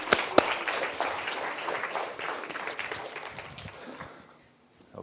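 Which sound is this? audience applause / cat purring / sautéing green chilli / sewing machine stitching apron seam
audience applause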